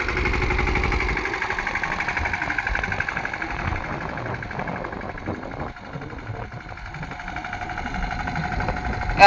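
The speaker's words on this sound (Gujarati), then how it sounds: "આપણે ટ્રેક્ટરનો અવાજ લેવા જાવ" A tractor engine idles nearby with a steady low, knocking rumble that dips slightly partway through before continuing.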